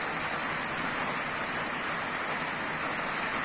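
Light rain falls in a steady, even patter that forms a continuous soft hiss, fairly faint and unbroken across the whole stretch, with no voices.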